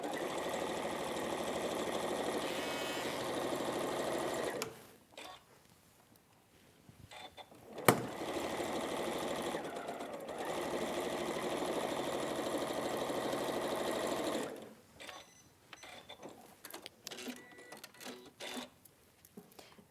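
Domestic sewing machine stitching a quarter-inch seam on a quilt, running steadily for two long bursts, close and fairly loud, with quiet handling and fabric rustle in the pause between and after.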